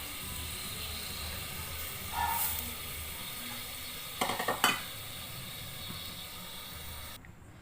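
Washed samak rice is added to a hot pan and stirred, giving a steady background sizzle with a brief scraping rattle of stirring midway, close and without talk.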